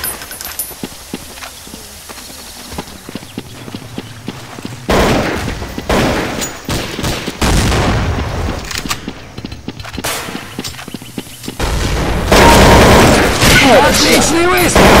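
Gunfire in Counter-Strike: Source, a burst of sharp shots rising abruptly partway through, with loud sustained blasts toward the end over a busy game soundscape of footsteps and clatter.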